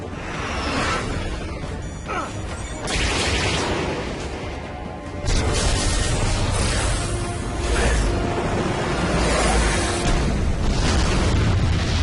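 Missile explosions in the video game Metal Gear Rising: Revengeance, loud booming blasts and crashing debris over a dense mechanical rumble, intensifying into a sustained roar after a brief lull.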